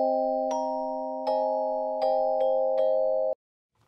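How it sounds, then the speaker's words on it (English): A dry celesta with no effect plays a held bell-like chord, struck again about every three-quarters of a second in five bright chiming hits, then stops cleanly into silence. "here is the Celeste by itself."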